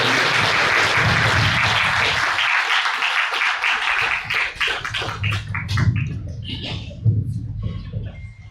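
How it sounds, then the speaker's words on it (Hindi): An audience at a Brahma Kumaris honour ceremony and gathering in Karnal breaks into loud, dense applause that thins into scattered claps, then swells again in rhythmic clapping, with some faint voices underneath. "आप सभी बार जोरदार ताली बजाएं।"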